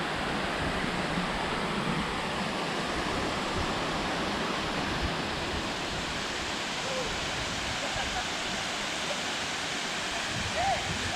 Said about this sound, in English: Be one of the most beautiful waterfalls I've ever seen.